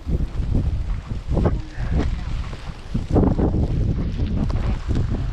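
Gusty wind batters the microphone outdoors, heavy low rumbling buffets rising and falling in uneven surges, close and loud, with people talking beneath it.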